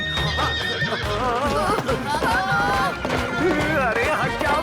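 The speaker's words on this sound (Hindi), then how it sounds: "ये घोड़ा रुक नहीं रहा है।" A cartoon horse neighs loudly in repeated, wavering whinnies, with clip-clop hooves and talk mixed in around it.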